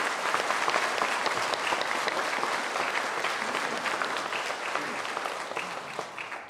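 A Korean Catholic church congregation in Atlanta applauds steadily to welcome a new assistant priest during Mass, a dense, sustained wash of many hands clapping that fills the room evenly from start to finish.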